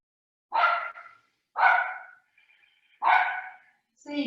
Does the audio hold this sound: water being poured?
no